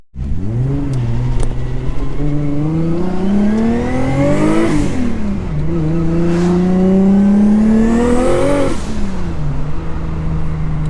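Nissan R32 Skyline with a Vibrant muffler and turbo wastegate pulling hard through the gears, loud rising revs broken by two shift dips, heard close and aggressive throughout.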